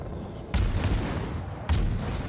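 Naval combat in World of Warships: two heavy, rumbling explosion booms, about a second apart, each with a sharp onset and a long low roar behind it.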